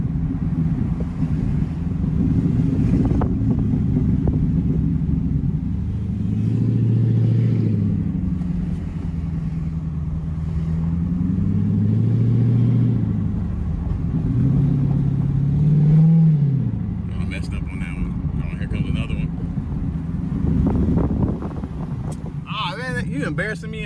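Dodge Charger Pursuit with Autostick shifting down from second to first gear, a loud interior engine drone that swells and falls in several rev changes with wind noise, a voice briefly speaking over it.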